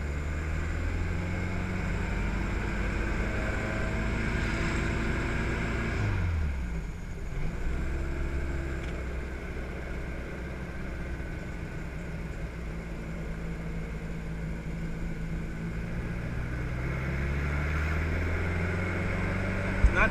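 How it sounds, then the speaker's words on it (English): Engine of a 1963 Volkswagen Karmann Ghia while driving, a steady low droning hum with a gear shift dip midway, then continuing evenly throughout with no talk. "It just drives like a nice old Volkswagen."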